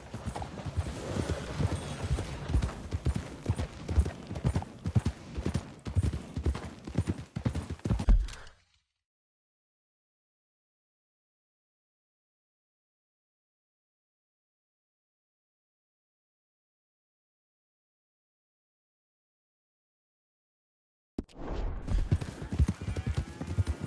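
Horse hooves gallop in a steady, rapid clip-clop rhythm in Red Dead Redemption 2, cut off by a long silence before the pounding hoofbeats resume near the end.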